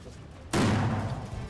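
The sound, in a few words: police blasting open closed doors in a drill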